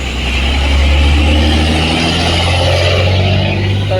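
Road traffic starting to move after a jam, with a heavy engine drone from buses and cars rolling close by, loud and steady throughout.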